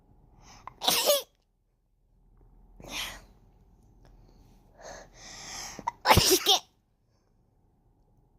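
Two loud, explosive, oddly pitched human sneezes about five seconds apart, close to the mic, with near silence and faint breathy sounds between them.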